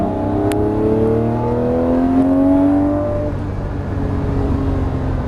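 A Lamborghini Murciélago accelerates on a race track at Las Vegas Motor Speedway, its engine note climbing loudly through rising revs and gear changes before settling into a steady high-speed drone.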